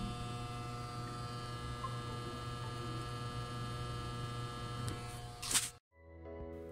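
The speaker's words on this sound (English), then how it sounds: "when I was doing heavier sort of gaming on this GPU, like Red Dead Redemption 2 and stuff, this is what the card began to sound like" Nvidia GTX 760 graphics card under heavy gaming load, giving off a steady low electrical hum and whine with faint tonal buzzing, ending in a brief clunk and a moment of near silence.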